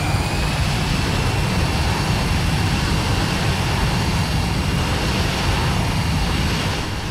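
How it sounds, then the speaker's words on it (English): An A320 airliner accelerating down the runway on takeoff, its engines producing a loud, steady roar with broadband rumble and a high whine that persists, close and continuous, throughout. "The airplane slowly picked up the speed on the runway."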